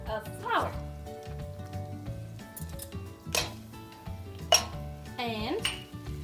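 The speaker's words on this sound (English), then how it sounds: "You need to continuously whisk it so that it doesn't get all chunky" A whisk scrapes and clinks steadily in a pan as flour is worked into melted butter, with a few sharper taps against the metal, sitting under louder background music.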